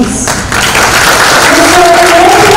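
Applause welcoming dignitaries at a company's second anniversary celebration in an auditorium, a brief burst of crowd clapping with a voice talking over it and a faint tone underneath.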